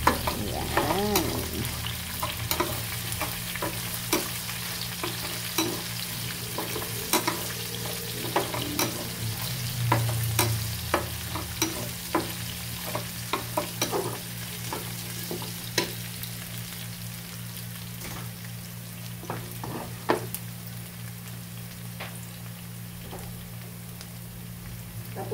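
Garlic and onion sautéing in oil left over from frying chicken, a steady, close crackling sizzle with scattered pops and a stir or scrape now and then, continuing evenly without talk.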